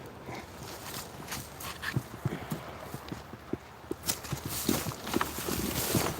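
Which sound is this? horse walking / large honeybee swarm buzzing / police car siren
horse walking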